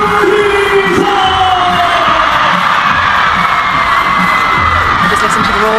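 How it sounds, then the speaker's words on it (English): A packed crowd at a China Smash table tennis event roars and cheers continuously, loud and dense, as a top player is introduced. "Just listen to the roar of the crowd."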